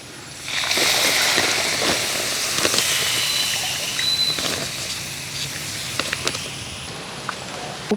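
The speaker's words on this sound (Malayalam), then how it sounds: "ഇതിലേക്ക് നാളികേരപ്പാൽ ഒഴിക്കണം കേട്ടോ." Coconut milk poured into simmering chicken curry makes a steady, fairly loud hiss and patter that starts after a brief quiet and carries on throughout, with a few sharper clicks near the end and no talking.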